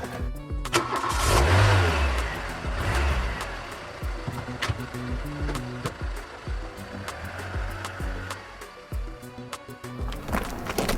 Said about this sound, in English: Move the car.